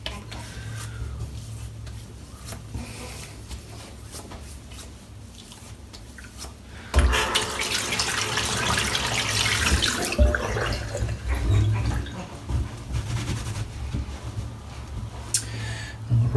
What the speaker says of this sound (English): Rinse the brush out while that's drying in.